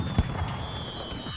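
Fireworks set off by townsfolk in the Old West for a Fourth of July celebration: one sharp burst early on, then a steady crackling hiss and low rumble.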